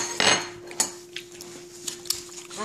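A metal spoon clinks against dishes in a few light, scattered taps, close and fairly quiet, with a faint steady hum beneath.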